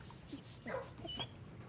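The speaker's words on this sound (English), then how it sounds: "Yep, pet the dog." A dog in the video game Blue Prince whimpers softly while being petted, a few short whiny yips and cries over a low game ambience, fairly quiet and close.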